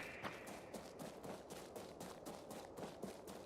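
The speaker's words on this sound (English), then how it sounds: "No joke, like full-on gunshots." Gunshots in Marathon gameplay, a rapid rhythmic series of sharp bursts of fire heard faintly at a distance, steady for a few seconds with no talking.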